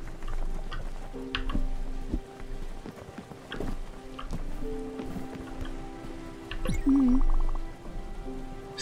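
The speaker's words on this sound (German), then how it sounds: "Blumen gießen im Regen." Light rain falls steadily in the video game Spiritfarer, with soft scattered drops and a few tonal game sounds layered over the patter.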